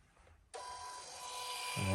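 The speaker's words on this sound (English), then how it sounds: "Printed it out on my little thermal printer here." A small thermal printer starts abruptly and runs with a steady whirring feed that grows slightly louder toward the end, heard close up with no talking.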